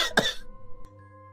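A person gives a single sharp cough followed by a short throat-clearing rasp, close and fairly loud, then a quiet tonal background hum.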